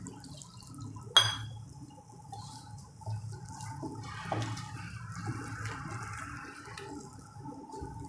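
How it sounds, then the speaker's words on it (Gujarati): Water is poured into a fenugreek flour mixture for methi gota batter, a soft, continuous trickling after a sharp clink near the start, quiet and close with no speech. "હવે પાણી નાખશું આપણે એમાં"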